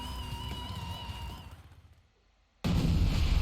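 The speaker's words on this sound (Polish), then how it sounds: "Bum, bum, wybuchy!" A rumbling soundscape in the video game Far Cry 5 fades to near silence, then a sudden loud explosion bursts in and keeps roaring.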